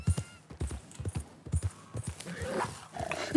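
Horse hooves in Red Dead Redemption 2 beat a rapid, uneven clip-clop gallop, close and fairly loud, with a sharper burst of noise at the end.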